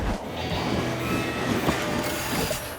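A cartoon ghost-train ride rattles along its rails with a steady, continuous rumble and clatter, close and even in level from start to finish.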